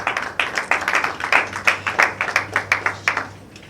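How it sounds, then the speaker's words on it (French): A few people clapping at an evening soirée as a woman is called to the stage, with distinct, fairly quick individual claps in an uneven rhythm, close and moderately loud, alongside a faint low hum. "Sous vos applaudissements"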